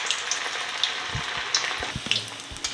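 Veg Manchurian balls deep frying in hot oil over medium heat: a soft, continuous bubbling hiss with scattered small pops and crackles, heard close with no talking.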